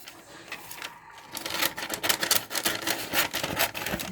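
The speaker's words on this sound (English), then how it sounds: "So I'm just going to get this stencil cut up now" A paper stencil is cut up by hand, producing close, dry scratching and rapid clicking cuts that grow louder and denser after a brief quieter opening, with no talk.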